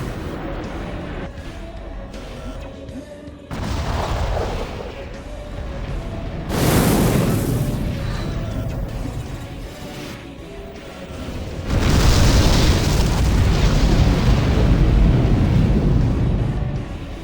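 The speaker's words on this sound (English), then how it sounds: "Those cannons will rip you to shreds. Focus on evading their fire." Heavy cannon fire and explosions from the Armored Core: For Answer video game boom in a dense, roaring battle mix. Loud blasts swell and break in several waves over a sustained rumbling background.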